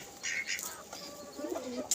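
Pigeons at a loft coo in short, soft throaty bursts close by as they gather for feed, a few overlapping calls in under two seconds.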